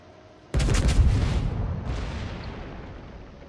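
A heavy test shot from a large gun in a video game, one sudden loud boom followed by a long rumbling decay with a fainter secondary crack partway through the fade.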